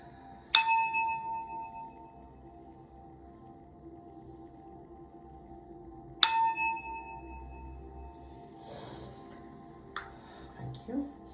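A small bell rings twice, each a bright metallic ding that fades slowly, the second coming several seconds after the first, followed by faint handling clicks and rustles.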